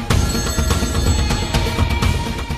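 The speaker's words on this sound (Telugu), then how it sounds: "ఏసీపీకి ఫోన్ కొట్రా." A telephone rings steadily and loudly for a couple of seconds with no one speaking, sounding in a comedy scene just before a call gets through to a police ACP.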